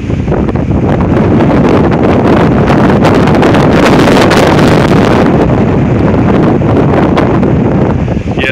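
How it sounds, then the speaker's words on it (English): Strong, roaring non-thunderstorm wind in Oklahoma, 40-60 mph gusts at tropical storm force, buffets the microphone in heavy continuous gusts, loud and rumbling with no voices. "this is tropical storm force wind, at least tropical storm force wind gusts at a minimum."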